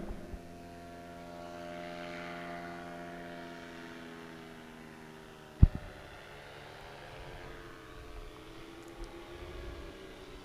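A propeller airplane drones steadily overhead at a barefoot waterskiing championship landing field, its engine tone holding then shifting as it passes, with a single sharp thump partway through and outdoor ambience.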